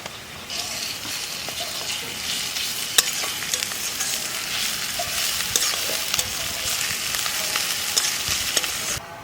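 Spice paste sizzles steadily in a pan while being stirred, with scraping strokes over continuous frying crackle, close and fairly loud, cooked outdoors in a primitive mud setting.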